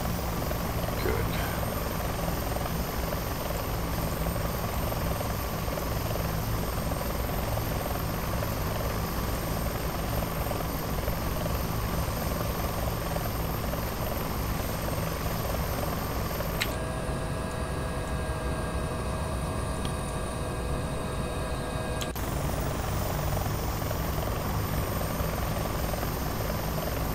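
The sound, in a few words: Bell 412 helicopter in flight, from video game X-Plane 11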